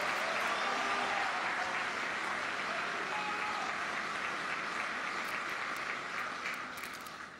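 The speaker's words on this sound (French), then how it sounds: "Je vous prie respectueusement d'applaudir notre premier citoyen" A large audience applauds the governor of Lualaba province at a conference of governors in the Democratic Republic of the Congo, a broad steady wash of clapping that holds for several seconds before fading near the end.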